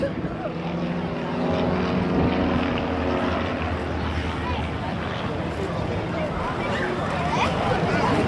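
Propeller-driven aerobatic planes fly a display pair routine at the 2017 Blackpool airshow, their engines a continuous distant drone beneath loud live commentary.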